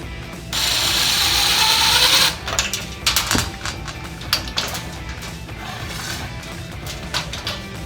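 A power drill drives self-tapping screws into a metal LED light fixture, a loud sustained whir followed by a burst of ratcheting clicks and sharp mechanical clatters, close to the microphone.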